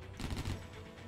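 Gunfire in the video game John Woo's Stranglehold, a dense burst of rapid shots with a crash-like edge, sustained for about a second at moderate level with no talk over it.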